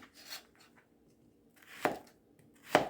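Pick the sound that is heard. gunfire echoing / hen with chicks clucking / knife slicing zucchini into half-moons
knife slicing zucchini into half-moons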